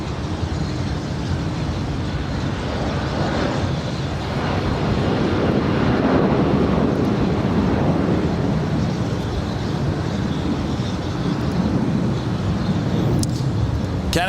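A Southwest airliner landing on runway 24 right at LAX, a broad, steady jet roar that swells slightly midway and holds loud and distant-to-near, heard from a high vantage point.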